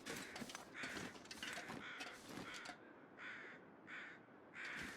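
Crows caw outside in a wintry coastal setting from The Long Dark, harsh repeated calls in uneven bursts, some overlapping early on and then spaced out, clear against quiet surroundings.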